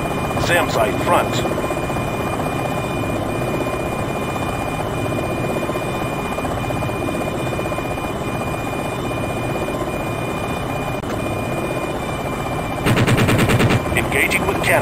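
Steady rotor and engine drone of an AH-64D Longbow helicopter in a flight simulation game, broken near the end by one loud rapid burst of cannon fire, with a faint voice cue early on.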